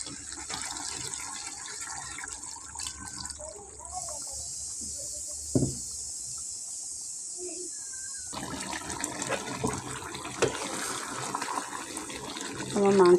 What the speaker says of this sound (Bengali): এখন আমি ঝোলে পানিটা দিয়ে দেব